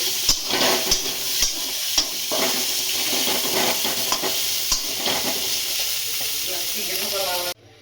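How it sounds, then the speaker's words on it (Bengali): Chicken fries in a pan at home, a steady close sizzle broken by utensil clinks and scraping against the pan, then cutting off abruptly at the end. "বন্ধুরা চিকেনটাকে একটু লাল লাল করে ভেজে দেবে।"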